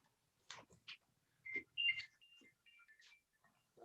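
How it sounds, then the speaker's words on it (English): A phone rings during an online lecture with a faint, thin electronic ringtone melody of short tonal notes, quiet and clear with no voices over it. "Look at that, a phone call."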